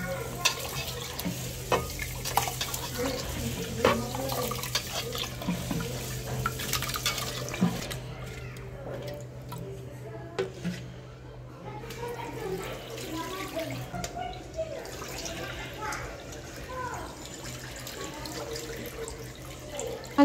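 Rice being washed in a sink basin under running water, a steady close wash of flowing water with stirring and sloshing throughout.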